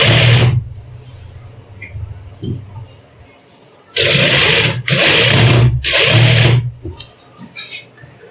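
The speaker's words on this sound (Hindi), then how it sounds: "ऐसे हम सिलाई लगा लेंगे।" A sewing machine stitches fancy lace onto fabric in short loud bursts, three back-to-back runs of whirring after an opening burst, with quiet pauses and faint sounds between them.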